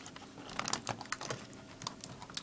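A Lenovo ThinkPad T Series laptop keyboard being pushed upward and worked loose from its frame: soft, scattered clicks and plasticky taps, close and quiet, with light crinkling between them.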